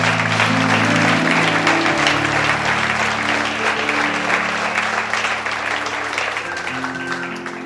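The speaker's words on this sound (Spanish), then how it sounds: "¿Cuánto le damos aplauso a Dios por eso?" A congregation at a church service applauds to God, a loud, sustained wash of clapping over a held musical drone that gradually thins toward the end.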